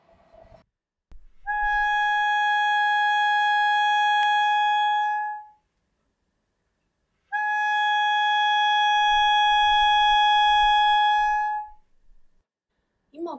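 A bass clarinet sounds high register notes, two long sustained steady tones each lasting about four seconds with a gap between, clear and close with faint breath and key noise around them.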